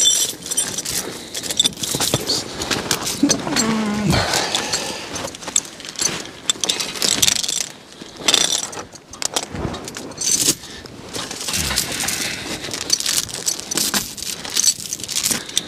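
Metal log chains rattle and clink in the woods as they are fastened around a log before cutting, in irregular jangling bursts that come and go, close by, with no talk.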